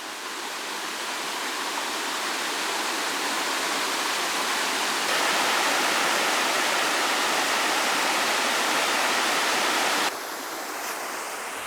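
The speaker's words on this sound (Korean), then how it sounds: "장쾌하게 흘러내리는 폭포의 모습에 무더위마저 순식간에 날아갈 듯한데요" Cold mountain waterfall pouring through untouched old-growth forest at Chilchil Rock in Yecheon, a steady broadband rush of falling water that swells slightly louder midway, with no voices.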